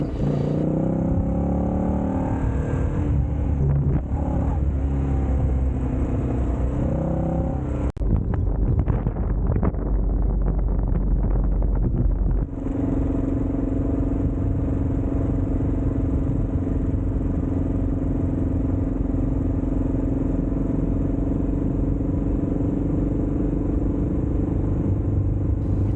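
A 40-year-old Honda motorbike rides a remote outback property track, its engine a steady rumbling drone mixed with wind buffeting the microphone and occasional clatter over rough ground.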